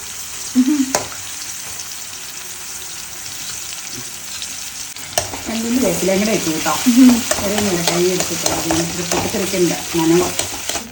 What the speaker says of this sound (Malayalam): ഇനി എണ്ണ ചൂടായി കഴിയുമ്പോൾ നമുക്ക് ഉള്ളി അതിലേക്ക് ഇടാം രണ്ട് തരം ഉള്ളി